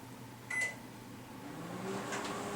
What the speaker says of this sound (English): this is actually going to go into the microwave